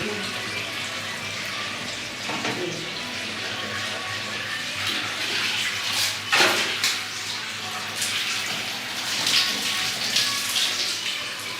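Water from a shower sprays and splashes across bathroom surfaces during cleaning, a steady hissing rush with occasional sharper splashes and clatters, moderately close and without talk.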